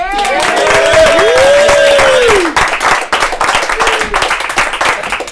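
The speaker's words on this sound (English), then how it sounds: "Darren Marshall, give him a round of applause." Applause and cheering from a live comedy audience, loud at first and then thinning out, with a few voices and whoops rising over the clapping.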